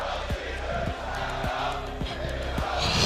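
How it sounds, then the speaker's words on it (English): Esports arena crowd at an ESL Pro League CS:GO grand final, Luminosity versus G2 on Inferno, roaring and cheering steadily throughout with rhythmic clapping or thumping, while a commentator's voice runs over the noise. "This crowd is so ready for it."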